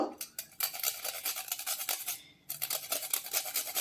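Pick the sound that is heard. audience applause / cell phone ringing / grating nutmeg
grating nutmeg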